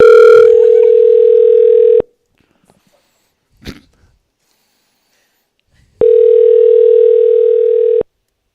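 An outgoing call on a morning show's phone and text line gives two long, loud, steady telephone tones about two seconds each, with a silent gap between them and a brief faint noise in the middle.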